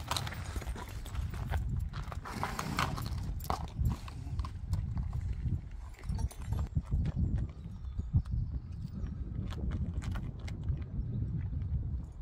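Hooves of gelding horses clip-clop steadily on the road at the Appleby horse fair, a busy run of overlapping hoofbeats heard fairly close amid outdoor crowd bustle.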